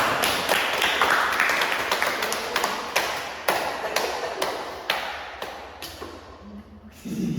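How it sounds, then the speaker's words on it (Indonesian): A small group claps hands after a children's song at a community counselling session, with loose individual claps first and then sharper, more separated claps that thin out near the end. "tepuk tangan semuanya."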